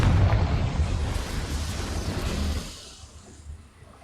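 A heavy magical explosion from the Bombarda and Confringo spells in Hogwarts Legacy: a dense, rumbling blast that holds for a couple of seconds, then decays into a fading low roar.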